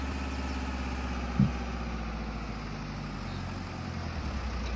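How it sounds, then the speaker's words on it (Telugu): A John Deere tractor engine in Farming Simulator 22 idles and rumbles continuously, steady and mid-pitched, loud and close, with a brief knock partway through. "మన జాన్ డియర్ ఇంజిన్ సౌండ్ మాత్రం నెక్స్ట్ లెవెల్"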